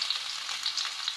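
Sliced garlic, onion, bay leaves and galangal frying for Indonesian tahu kecap give a brief, steady close-up sizzle, a dense bright hiss with faint crackles throughout.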